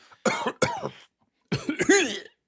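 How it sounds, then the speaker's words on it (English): Two bursts of deliberate, forced coughing close to the mic, a short pair followed by a longer, throatier cough after a pause. "now know how to do a good stage cough"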